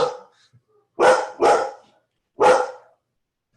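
A dog barks loudly and close by: a short bark, a quick double bark, then one more after a pause, with silence between.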